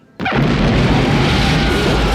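A sudden loud blast from the 1988 film They Live erupts after a moment of quiet and holds as a sustained roaring rumble with no talk over it.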